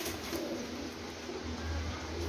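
Soft, low pigeon cooing over a steady background hiss, close by and fairly quiet.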